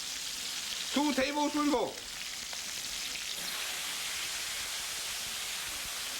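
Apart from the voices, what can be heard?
water added to hot wok with crab, sizzling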